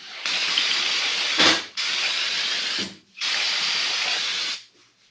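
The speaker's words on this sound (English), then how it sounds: "I'm going to spray it real quick." Three long bursts of spray hissing from an aerosol can onto a cleaned Chevy engine, each lasting about a second or more with short breaks between them, close and steady.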